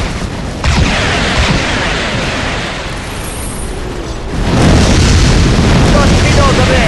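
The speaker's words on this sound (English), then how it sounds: "Fire torpedo! Torpedoes away!" Torpedoes launching in Command & Conquer, a loud sustained rumble of booming blasts that swells again near the end, with voices and game chatter in the background.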